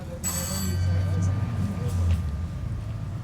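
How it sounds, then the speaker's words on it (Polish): A bell or ringing tone, like a doorbell, sounds inside a building where visitors sign a guestbook in Iran, a steady high ringing over the first part beneath people talking nearby. "Ja aż dzwonek zadzwonił."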